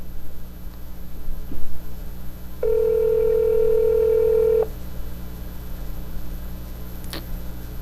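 Telephone ringback tone on an outgoing call to a dispensary in Ohio: one steady, close electronic tone lasting about two seconds, set over a constant low line hum and hiss, with no voices.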